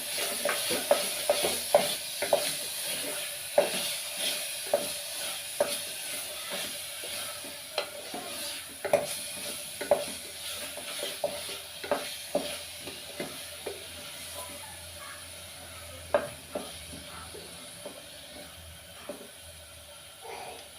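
Ragi sangati being stirred and mixed in a pot, a steady run of soft scraping and thick paste sounds with rhythmic strokes and a faint sizzle underneath, close and alone.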